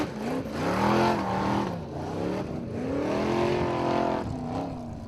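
An old Jeep competing in Icelandic Formula Offroad roars hard, its engine climbing and dropping through revs with strained, wavering pitch, heard from a moderate distance without talk.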